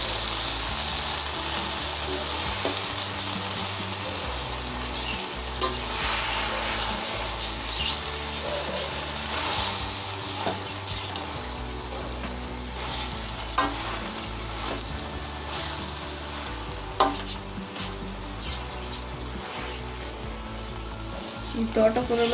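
Amaranth leaves (thotakura) sizzle and fry in a pan while being stirred, with soft scraping strokes over a constant hiss and occasional sharper clinks, and faint talking in the background.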